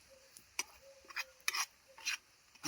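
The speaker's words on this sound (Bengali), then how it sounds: "লবণ, জিরা গুঁড়ো, লঙ্কা গুঁড়ো, হলুদ গুঁড়ো সব একসঙ্গে দিয়ে দিচ্ছি বাবা। এই যে বাবা, সব দিয়ে দিলাম বাবা। ভালো করে কষে নিই বাবা।" Salt, cumin, chili and turmeric powders stirred and sautéed together in a pan during village-style egg cooking, heard as intermittent scraping strokes of a spatula against the pan, close and fairly quiet.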